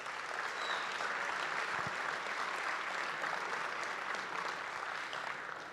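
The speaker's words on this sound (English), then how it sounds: "So final round of applause for all the support that happens to make this a huge success." Audience applause at a national simulation competition banquet: an even, sustained wash of many hands clapping, heard from a distance and fairly faint, continuing unbroken to the end.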